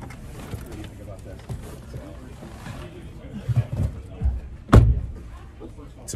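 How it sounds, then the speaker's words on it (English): A single solid thump of an INEOS Grenadier rear car door shutting close by, heard after low rustling and a person's soft movements inside the vehicle. "Pretty solid door feel."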